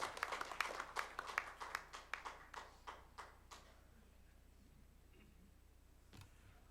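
A church congregation at a Korean Sunday worship service claps in a quick, fairly even run of sharp hand claps that thins out and stops after a few seconds, leaving a quiet room.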